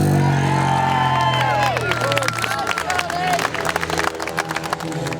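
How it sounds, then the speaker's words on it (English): Speedway crowd at a night meeting breaks into applause and cheering, scattered claps and shouts building loudly around a speaking voice. "I think they want to give you a big cheer."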